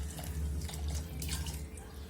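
Water pours from a tap into a pressure cooker holding soya chunks and potatoes for a sabji, a steady splashing flow with small bursts of gurgling.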